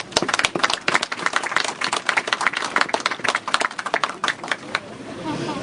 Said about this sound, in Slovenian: En aplavz za županjo.